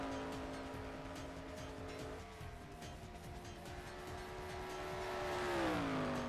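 Race car engine droning steadily as it laps Texas Motor Speedway in an online racing game, a sustained tone that dips, then climbs again as the car slows toward pit road, with faint squealing tires.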